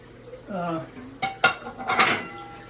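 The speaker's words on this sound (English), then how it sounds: "the last thing you would put in the pressure cooker would be this plate, just kind of holds everything down" A metal plate goes into a pressure cooker used for mushroom growing blocks, with a couple of sharp metallic clanks and scrapes close by after a brief murmur.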